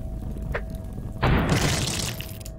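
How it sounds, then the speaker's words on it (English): A grenade explodes in the turn-based game UnderRail, a sudden loud burst with a crackling, shattering tail that fades over about a second after a short quiet lead-in. "I'll throw a grenade at these guys"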